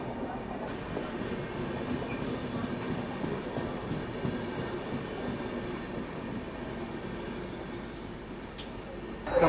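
The Sampoorna Kranti Express pulls into an Indian station with a steady, fairly faint rumble of wheels and carriages, a soft continuous rolling roar that holds throughout.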